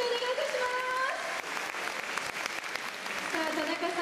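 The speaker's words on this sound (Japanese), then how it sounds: "皆さん温かい拍手をお願いいたします。" Audience at a Korean song contest regional results announcement gives warm applause for a winner, sustained clapping throughout with sustained musical tones playing underneath.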